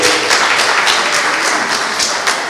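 Loud, close clapping from an audience, a dense continuous patter with rhythmic bursts that suggest some hands clapping in time.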